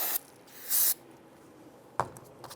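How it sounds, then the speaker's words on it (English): Solvent sprays onto front brake parts of a 1999-2004 Jeep Grand Cherokee in short hissing bursts, one brief spurt then a stronger close blast lasting under a second, followed by a couple of light knocks. "Give it a spray with some solvent."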